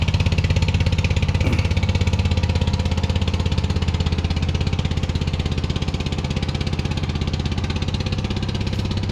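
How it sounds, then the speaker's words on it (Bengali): A passing trawler's diesel engine chugs in a fast, steady rhythm, loud and close, holding steady throughout with no voices. "এই যে ট্রলারটি চলে যাচ্ছে,"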